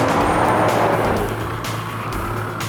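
A 4WD vehicle crawls along in low range on a weekend trip with mates, its engine note loud and close and rising slightly, with a strained, steady drone.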